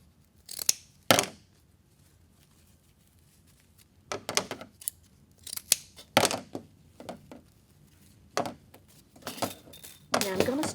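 Scissors snip through ribbon ends to cut chevron shapes, a series of sharp close clips in bursts separated by quiet gaps.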